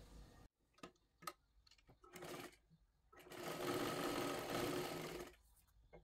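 A sewing machine stitches a size 36 three-piece princess blouse, first in several short clicking bursts, then one longer steady run of whirring stitches, close and fairly quiet.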